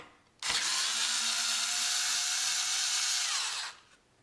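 A power driver with a Torx bit whirs steadily for about three seconds as it backs out a screw from a Corvette C8 steering wheel, a close, high, even buzz that starts and stops abruptly.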